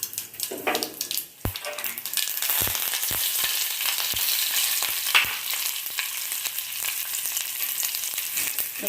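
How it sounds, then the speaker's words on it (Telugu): Spices for a chutney tempering hit hot oil in a pan: a few sharp utensil taps open the clip, then a loud, steady sizzle and crackle takes over and keeps going. "ఇది నెక్స్ట్ ఇక్కడ చట్నీ కోసం పోపు పెట్టుకుందాం"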